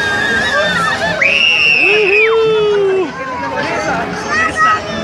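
Riders on the Black Hole ride at Fantasilandia amusement park in Chile scream, a long rising shriek standing out over steady crowd chatter and background hubbub.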